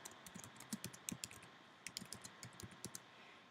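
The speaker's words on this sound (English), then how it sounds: "So I see the image and I have to type what I just heard." Typing an answer on a computer keyboard, quick close clicks in two uneven bursts with a short pause between, quiet and alone.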